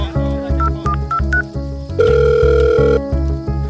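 Short dialing beeps are followed by a steady electronic ringback tone within a Bhojpuri song, sounding over a pulsing rhythmic music bed.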